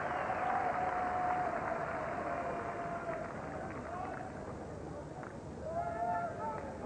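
Crowd noise swells and murmurs throughout at an England versus Australia Test cricket match in 1993 during a hostile short-pitched bowling spell, steady and broad, with commentators talking over it.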